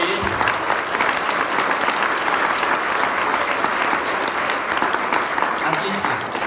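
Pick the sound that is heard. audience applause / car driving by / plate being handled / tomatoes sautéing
audience applause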